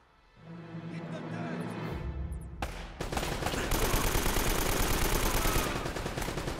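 AK rifle in Uncharted gameplay firing a long, steady automatic burst, loud and close, with rapid rhythmic reports layered over game noise.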